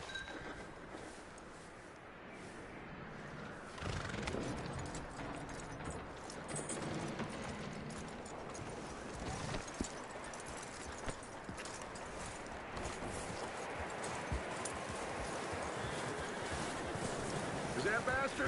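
Hooves clip-clop in a steady walking rhythm, fairly close, over a low background of movement and ambience.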